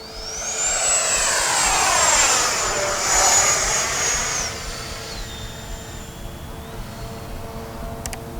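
A Freewing Yak-130 RC jet screams past at full throttle, a loud, high-pitched ducted-fan whine that rises and sweeps in pitch as it passes close, then fades to a steadier, more distant tone.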